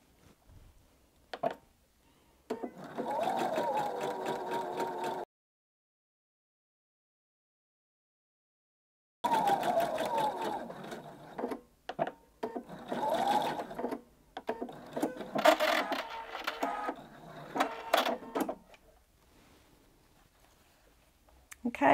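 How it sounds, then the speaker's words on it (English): A sewing machine stitches bias binding around a curve in bursts of rapid, close mechanical whirring, stopping completely for a few seconds midway, then resuming in shorter runs with small clicks between them. "So let's just get started and sew around this curve."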